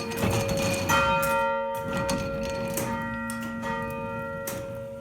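A church bell rung by a Verdin bell system rings with sustained, resonant tones that overlap and linger, steady and fairly loud throughout.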